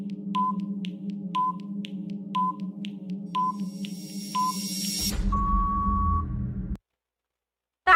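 A quiz countdown timer beeps in an even rhythm, about two short pips per second, then gives way to a longer end tone and a burst of noise before silence.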